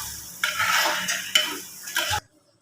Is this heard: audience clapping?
no